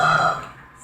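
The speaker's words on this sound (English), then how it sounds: "Stop burping." A person lets out one loud, close burp that fades out within a second, with no talk over it.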